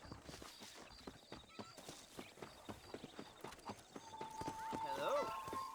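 Horse galloping in the Red Dead Redemption video game, a rapid, even rhythm of hoof clip-clops close up, ending in a loud drawn-out whinny, with someone talking briefly over it.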